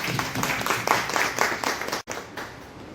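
An audience claps at a seminar, many hands beating in uneven bursts at moderate volume, with a brief dropout before the clapping resumes more softly.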